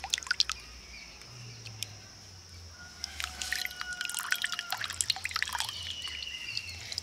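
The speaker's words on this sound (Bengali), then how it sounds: "আবারও একই রকমভাবে আমি ছানা থেকে জলটাকে ছেঁকে নেব।" Water drips and trickles out of cloth-wrapped chhena, milk curdled with vinegar, strained in a kitchen: quiet, uneven drips with a soft running trickle, plus a few faint clinks, no voices.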